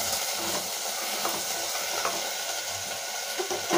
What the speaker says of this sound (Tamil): இதை நல்லா பிரட்டி கொடுக்கலாங்க